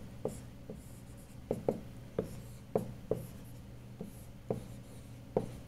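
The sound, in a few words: writing an equation on a board during a lecture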